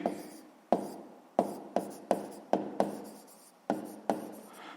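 Pen strokes scratching across paper in short, separate bursts, about nine or ten of them, each with a sharp onset that tails off, close and fairly quiet during a sixth-grade math exercise.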